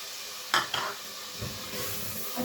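Meat being stir-fried (bhuna) in a pot for shaljam gosht, with a low constant sizzle, a couple of sharp utensil scrapes early on and softer stirring knocks later, fairly quiet and close, no voices.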